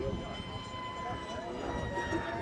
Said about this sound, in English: Fun Jet there, as you can see, absolutely screaming past.